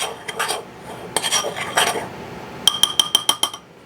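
Ingredients are stirred together in a bowl with a utensil, giving loud, close metal-on-bowl scraping and clinks that end in a quick burst of rapid taps, with no talking.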